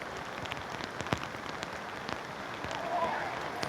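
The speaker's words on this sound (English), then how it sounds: "Listen to the rain." Rain pours steadily onto a rugby field during an under-20s match between Newcastle Knights and Gold Coast Titans, a dense hiss broken by sharp scattered drop taps, with no talk.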